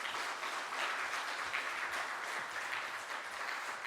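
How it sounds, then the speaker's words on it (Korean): A church congregation at a Sunday afternoon worship service in Ulsan, Korea, claps to welcome a visiting pastor, giving a continuous, fairly soft wash of many hands clapping from across the room. "큰 박수로 환영하도록 하겠습니다."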